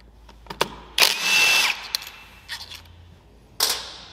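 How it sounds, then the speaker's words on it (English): Power tool whirring briefly as board screws are backed out of the mechatronics unit on a BMW dual clutch transmission, with short bursts of a drill and small metallic clicks in between, close and alone. "remove the board screws which hold the mechatronics board to the transmission"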